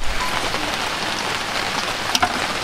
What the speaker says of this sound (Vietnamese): Hạt mưa nó cũng đã nhỏ lại chút xíu rồi. Nãy mưa lớn quá.